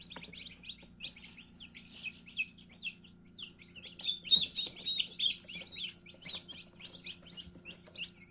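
Small Livny-breed chicks chirp in high, rapid peeps inside a 72-egg incubator, many overlapping calls over a low steady hum.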